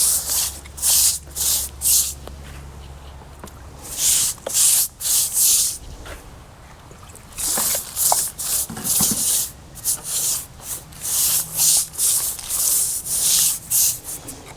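Repeated short bursts of concrete bonding adhesive spraying from an aerosol, close by, in an irregular rhythm with brief pauses, alongside faint rubbing and shuffling, during a thin stone installation on stairs.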